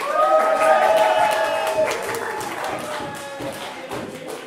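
Audience at a live music event applauds and cheers for a person named Henrik, a dense wash of clapping and crowd noise that starts loud and slowly tapers, with faint tones ringing underneath.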